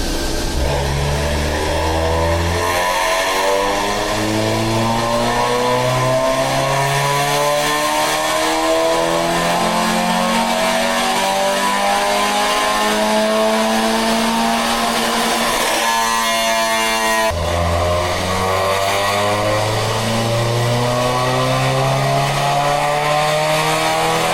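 A Honda Civic FD with a SOHC engine revs hard on a dyno, climbing through the gears in rising sweeps with brief drops at each shift, loud and close, and no voices.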